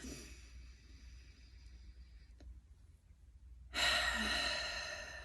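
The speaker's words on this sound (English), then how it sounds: "So let's take a deep breath." A single deep breath drawn in and let out before a tarot reading, a soft airy sigh standing alone in a quiet room, followed by a louder hiss of exhale.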